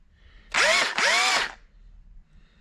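A Makita angled power drill, received in the mid-1990s, runs in two short bursts close by, with a whine that climbs in pitch as it spins up, then quiet; no talk.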